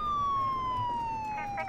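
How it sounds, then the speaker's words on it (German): A police car siren from the video game Enforcer: Police Crime Action wails in a steady, slowly falling tone, loud and continuous under a faint bed of engine noise. "So, Sirene erstmal aus, die ist ja anstrengend."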